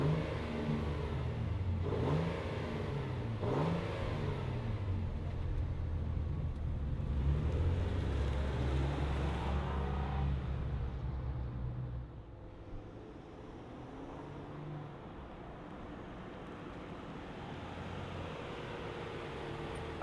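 A 2025 Infiniti QX80 Sensory full-size luxury SUV starts up and pulls away, its engine rising and falling through steady revs for about twelve seconds before settling into a quieter, smoother cruise.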